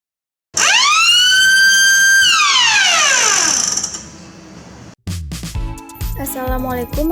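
A loud home automation alarm siren, triggered by a smoke detector, wails, its tone climbing then sliding down, before cutting off into a jumble of shorter electronic beeps and tones.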